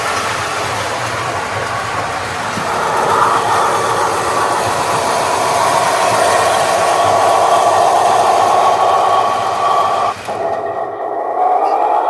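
A model train, some pre- and some post-World War II, runs on a home layout with a close, steady mechanical whine and a rising hum that swells over the clip before cutting off abruptly near the end.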